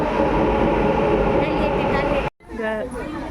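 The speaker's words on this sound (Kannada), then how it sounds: "ಬಂತು ಟ್ರೈನ್, ನಡೀರಿ ಹೋಗೋಣ" Metro train pulling into a station platform, a loud continuous rumble and rush filling most of the clip before cutting out abruptly, followed by a brief stretch of talking voices.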